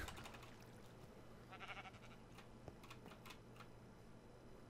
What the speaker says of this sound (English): We have a sheep.